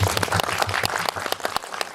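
Applause from the audience at a film screening Q&A in a Seoul indie cinema, a brief burst of dense, close clapping that thins out toward the end.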